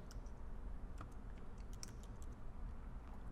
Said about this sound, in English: I'm just going to hit the plus button and then type in their names.